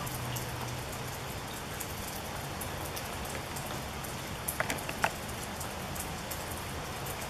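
Steady rain falls at night, a dense, even hiss of drops on surfaces, with a few brief sharper patters breaking through near the middle.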